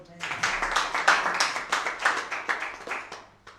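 A congregation claps during a church sermon in a dense burst of many hands, loud and close, with voices mixed in throughout.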